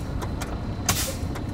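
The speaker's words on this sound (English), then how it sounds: "fan the brakes" Truck air brakes fanned during a CDL air brake inspection, with several short bursts of released air and one louder hiss near the middle against a steady idling engine.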